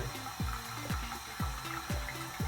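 Tap water runs steadily to dampen a do-rag, a continuous hiss with recurring gurgling swells about twice a second and no talk.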